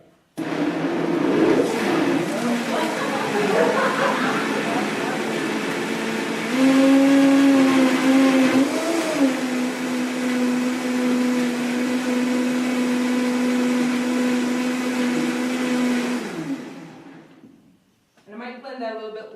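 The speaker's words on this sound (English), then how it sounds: "I love the Vitamix because it's got a plunger too." Vitamix blender whirring through fruit smoothies with orange and grapefruit, a loud steady roar whose pitch steps up midway and holds before cutting off, followed by a brief voice.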